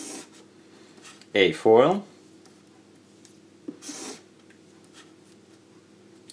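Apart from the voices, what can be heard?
drawing freehand with a pen on paper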